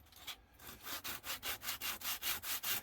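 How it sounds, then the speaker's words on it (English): Close, steady back-and-forth sanding strokes on a resin model kit, a regular scratchy rasp repeating about four times per second, alone without talk. "So that's one way to get these areas sanded down."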